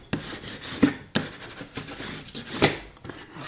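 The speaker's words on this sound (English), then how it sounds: "And now I'm going to give this all a good rub." Firm hand rubbing over paper on a vintage-style fake book to stick it down, close scratchy strokes with a couple of sharp taps and a steady rasp between them.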